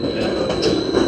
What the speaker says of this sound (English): Got 2 trains coming in.